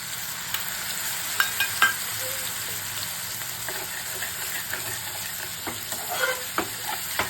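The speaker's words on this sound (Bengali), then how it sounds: "কালো জিরে দিয়ে আলুটা ভাজা হয়ে গেছে" Potatoes fry with black cumin, onion and green chili in a pan, giving a steady soft sizzle broken by scattered scraping stir clicks throughout, with no voices.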